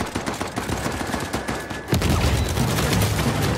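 The Neorex weapon fires in an Uncharted 4 multiplayer match, bursts of rapid shots crackling continuously before a heavier, denser volley takes over midway and keeps going loud.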